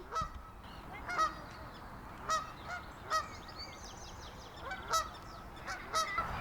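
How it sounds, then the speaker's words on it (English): A small female Canada goose honks repeatedly, short loud calls spaced a second or so apart over a soft outdoor park background. "It's probably the smallest female Canada goose I've ever seen."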